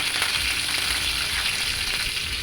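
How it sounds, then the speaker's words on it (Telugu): Curry leaves sizzling in hot oil with tempering spices for a flat bean and tomato curry, a steady, close, hissing fry with no talking. "ఈ తాలింపులన్నీ వేడైన తర్వాత కొంచెం కరివేపాకు వేసుకుందామండి"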